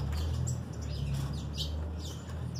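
Young songbirds chirp in a breeding aviary, with scattered high, thin calls over a steady low hum and no speech.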